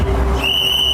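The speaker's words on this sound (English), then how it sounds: "All of a sudden, I heard a whistle" A single shrill whistle blast cuts in and holds steady during an ICE arrest on a Houston street, over a rumbling background of crowd and street noise.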